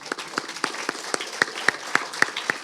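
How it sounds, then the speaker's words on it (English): Sparse, distinct hand claps from a small outdoor crowd at an Anne Frank tree planting ceremony at Stockton University, irregular and moderately close, growing a little sharper toward the end. "Please join me in giving everyone today a round of applause"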